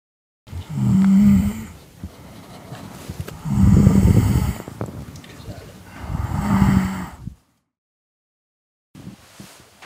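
A person snores in a bed at night, with three long, loud, rasping breaths spaced a couple of seconds apart. Each is close, and silence follows before a faint sound at the end.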